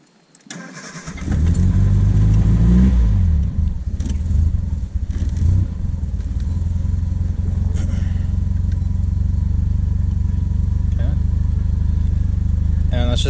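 A 1978 Triumph Spitfire engine cranks over and settles into a steady, loud running drone close by, with gear changes attempted while the clutch fails to fully release.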